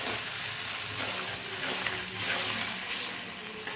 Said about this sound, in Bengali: মশলাটা কষা হোক।